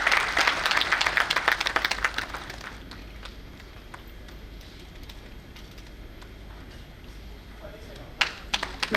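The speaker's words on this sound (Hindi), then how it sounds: "जोरदार तालियां और धन्यवाद।" An audience at a constitution campaign inauguration ceremony applauds in a dense burst of clapping that fades to a softer patter and then picks up briefly near the end.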